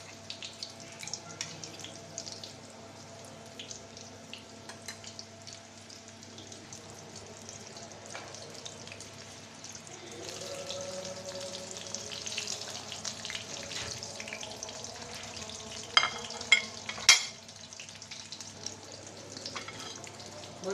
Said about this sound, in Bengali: আমি উলট পালট করে ভেজে নেব।